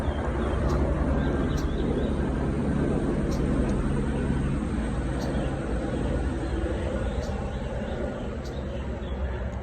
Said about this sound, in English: There's a noisy helicopter over here